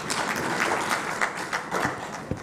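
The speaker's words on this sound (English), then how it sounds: "Another round of applause for the government." Applause from a seminar audience at a tourism expo, a dense steady wash of many hands clapping that tapers slightly toward the end.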